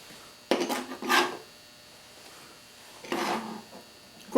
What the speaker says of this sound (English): Of course, you want to stir all this up well.